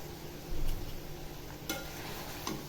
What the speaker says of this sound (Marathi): कोथिंबीर टाकल्यावरही छान असं परतून घ्यायचं